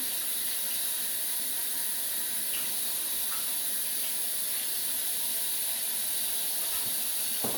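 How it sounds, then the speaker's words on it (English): Tap water rinses glue off a toupee, giving a steady, even hiss of running water that stays constant and fairly soft throughout with no voices. "So rinse it thoroughly, make sure that everything is rinsed off properly."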